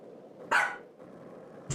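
A pet dog indoors barks once sharply at someone outside, then lets out a second clipped bark a moment later, close and clear over low room noise.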